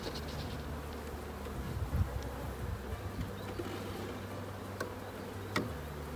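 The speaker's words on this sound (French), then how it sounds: "je vais secouer les abeilles dans la ruche" A honeybee swarm being shaken into a hive gives off a soft, steady buzz of many bees close by, with a few brief knocks and thumps from the hive frames.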